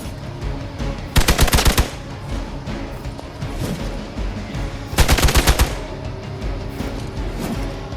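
Automatic gunfire in Marvel's Midnight Suns: two loud, rapid bursts of shots about four seconds apart, rising over a steady bed of game ambience.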